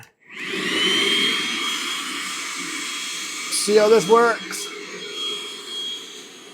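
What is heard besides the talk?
vacuum pump starting on a maple syrup evaporator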